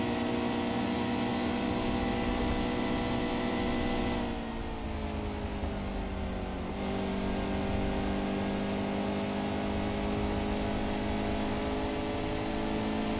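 Stock car engine in the NASCAR Heat 2 racing game, a loud steady drone with layered harmonic whine that dips briefly in pitch mid-race, then climbs back, running continuously without talk.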